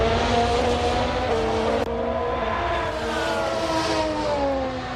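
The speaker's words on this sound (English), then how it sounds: "as we see Kaikera go for another flying lap here" A race car on a flying lap at pre-season testing, its engine a loud, steady high-pitched whine with gear-shift steps and a brief dip partway through, sustained close throughout.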